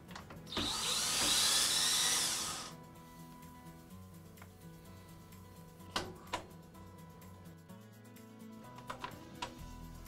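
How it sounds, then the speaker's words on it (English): A power screwdriver whirs briefly at the start to remove screws from a vinyl window lock keeper, followed by faint clicks and small taps of the screws and parts, close and quiet, with no talk. "you can now remove the lock keeper by taking out the 2 exposed screws"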